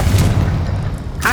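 A Bombarda explosion spell in Hogwarts Legacy lands as a heavy, close boom with a rumbling low-end body that rolls on for about a second.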